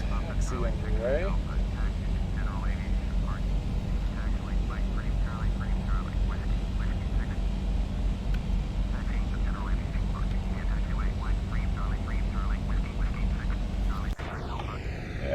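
A DHC-6 Twin Otter taxis in Flight Simulator X, its twin turboprops droning in a steady, even hum throughout, with faint chirping background ambience and a brief click near the end.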